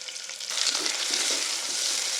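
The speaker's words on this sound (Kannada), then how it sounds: "ಒಂದು ಸ್ವಲ್ಪ ಗೋಲ್ಡನ್ ಬ್ರೌನ್ ಬರುತ್ತನ ಫ್ರೈ ಮಾಡ್ಕೋಬೇಕು ಉಳ್ಳಾಗಡ್ಡಿನ" Sliced onions with pulao spices fry in oil for egg biryani, giving a close, steady hiss and sizzle with faint stirring, no voices.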